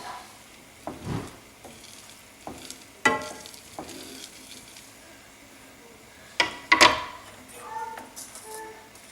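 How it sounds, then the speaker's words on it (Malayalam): Long beans thoran with garlic being stirred in a pan, a few scattered scrapes and stirring clatters over a faint low sizzle, with quiet gaps between the movements. "ഇതെല്ലാം കൂടി ഇട്ട് ഞാനൊന്ന് മിക്സ് ചെയ്ത് ഞാൻ മിക്സ് ചെയ്യാം."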